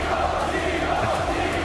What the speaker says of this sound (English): Crowd giving him some love.